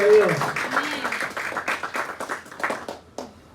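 A church congregation applauds in a brief round of clapping that trails off over a few seconds, with a voice speaking at the start.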